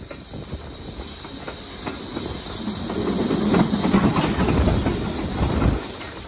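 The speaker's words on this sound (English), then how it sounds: "Two steam engines passing each other on a double-track mainline." Two steam locomotives passing each other on the double-track Great Central Railway heritage mainline, a loud hissing rush with rhythmic rail clatter and a deep chuffing rumble that builds toward the middle.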